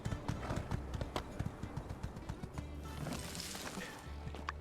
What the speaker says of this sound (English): Nope, this horse just runs right over everything.